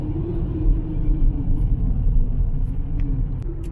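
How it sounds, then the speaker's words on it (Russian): A loader vehicle rolls slowly along a road carrying a wrecked car, its engine giving a steady, loud, low rumble throughout with no voices. "Это не комбайн, погрузчик. Машину убитую везет."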